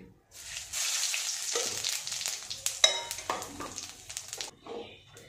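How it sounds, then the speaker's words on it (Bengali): Cumin seeds hit hot oil in a pan after fish has been fried, bursting into a loud bright sizzle that settles into steady crackling, with spoon stirring clinks and scrapes on the pan. "জিরে ফোড়ন দিচ্ছি।"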